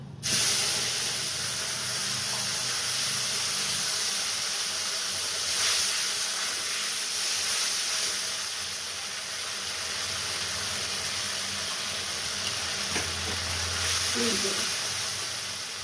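Doi potol being stirred as it fries in a pan with bay leaf and garam masala, a steady hiss and sizzle close by, with a few scraping stirs near the end.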